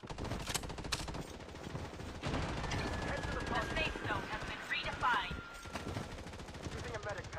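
Gunfire in the shooter game Blood Strike: dense, rapid bursts of shots crackle continuously amid other loud in-game battle noise for several seconds.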